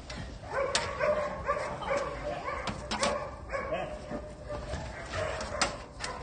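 Police narcotics detection dog makes short yips and whimpers in a busy outdoor spot, with scattered voices and handling noise around it.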